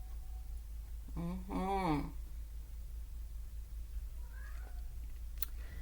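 House cat giving one clear, drawn-out meow close by in a quiet room, followed by a softer, shorter chirp a few seconds later over a low steady hum.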